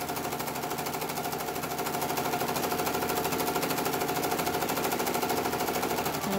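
A sewing machine runs continuously along a 36-inch fabric strip being made into mask ties, giving a steady, fast mechanical whir with a dense rapid stitching patter that holds an even level throughout.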